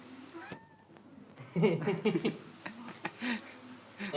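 A cat meows as it is fed seaweed, with short close calls clustered in the middle, a faint clink of metal and scattered voices around it.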